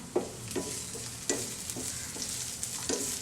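Meat curry sizzles steadily in a pan while a spoon stirs it, with several distinct scraping strokes spaced irregularly over a constant hiss, close and moderately loud.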